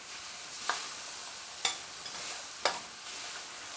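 Veggie mince is stirred gently in a pan under a soft continuous sizzle, with three distinct spoon scrapes spaced about a second apart.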